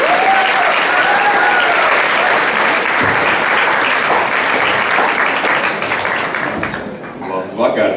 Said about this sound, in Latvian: Ar aplausiem sagaidām 11.